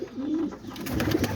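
Pigeons cooing inside a loft housing mostly white breeding pairs, a low soft continuous cooing with a rising rolling note, close and fairly steady, with no talk.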